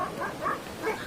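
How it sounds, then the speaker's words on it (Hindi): Dogs running behind someone on Dumas Beach give soft, muffled barks, about three rounded yelps spaced across a second, at moderate distance over a low ambient hum. "उसे अपने पीछे भागते हुए कुत्तों की आवाज़ सुनाई दी।"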